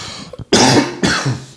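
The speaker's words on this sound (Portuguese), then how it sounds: "Tá vendo que eu tô tossindo?" Two harsh coughs, close and loud, one after another, preceded by a small throaty catch.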